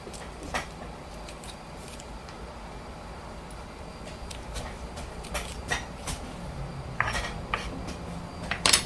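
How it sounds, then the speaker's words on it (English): A spoon scrapes seeds out of halved jalapeno peppers in a kitchen, giving faint, scattered clicks and light scratches over a quiet background with no speech. "I'm gonna take them out with a spoon."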